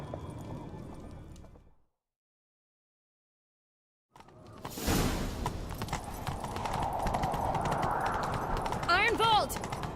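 A horse's hooves clop in a quick, steady gallop over a busy background in The Witcher 3, starting after a short silence and continuing loudly to the end.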